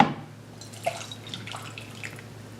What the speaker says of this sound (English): I'm gonna start by pouring the hot water, a whole cup,